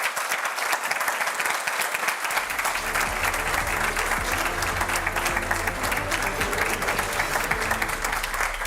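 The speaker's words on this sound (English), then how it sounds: "A round of applause." Steady, dense applause from a studio audience at the close of a live political talk show, filling the whole stretch at an even level while a low musical tone rises underneath from about the third second on.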